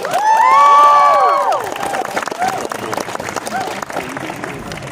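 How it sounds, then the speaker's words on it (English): An audience claps and cheers, with excited whoops and high shouts rising over the applause at first, then clapping continuing more raggedly. "Big round of applause for everybody."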